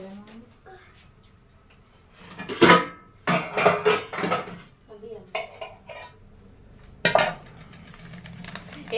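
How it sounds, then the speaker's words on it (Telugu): Pots and dishes being washed at home in a village kitchen: irregular bursts of metal vessels clanking and scraping against each other, loud and close, separated by quieter gaps. "గిన్నెలు పడదాం."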